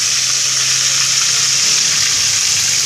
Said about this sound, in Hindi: 2 से 3 मिनट में इसको फ्राई करूंगी एक साइड से